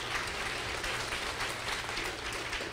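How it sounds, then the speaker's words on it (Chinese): Audience applause closes a lecture on public policy and fiscal budgets at a Taiwan government cabinet preparatory meeting, a dense, steady wash of many hands clapping that holds evenly throughout, with no speech over it. "我们再次以热烈的掌声"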